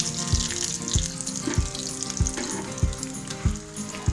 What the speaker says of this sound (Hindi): बस अब ये फ्राई हो चुके हैं, मैं इनको निकाल रही हूँ।